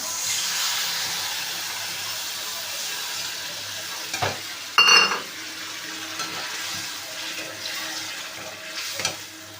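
Small shrimp for a malai curry are stirred in a pan, a soft sizzle under occasional scraping clinks from the spoon, with one louder knock midway, close and without talk.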